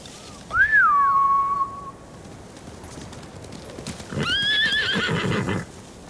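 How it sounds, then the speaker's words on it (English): Samurai horses in the Ghost of Tsushima game neigh twice in loud, close whinnies a few seconds apart, with hoof clatter and rumbling movement underneath. "Bastards scared off the horses."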